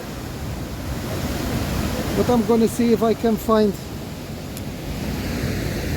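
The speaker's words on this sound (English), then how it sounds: "So I guess they bring the tourists to see the waterfall falling into the sea." Duden waterfall pours into the sea in a steady, roaring rush of falling water, heard from a clifftop at a distance, while a voice speaks briefly over it.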